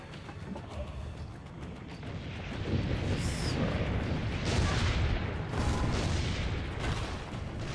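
Loud, dense booming cannon blasts in rapid succession over a rumbling, noisy soundscape in Assassin's Creed Brotherhood at Monteriggioni, with no talking.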